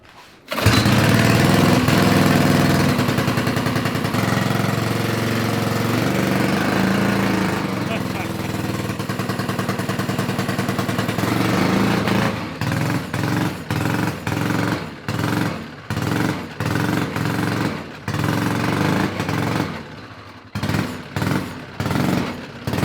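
A go-kart's small engine runs steadily and loud, then is blipped in a choppy series of bursts and cuts, returning toward idle between revs, close by with no one talking.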